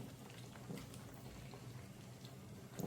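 Sheep testicles simmering in water in a pot, a soft continuous bubbling and faint crackling, close and low in level.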